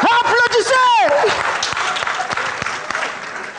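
At a live comedy show a performer's voice rises in an exclamation, then audience applause comes in and keeps up as steady clapping, moderately loud and slowly thinning out.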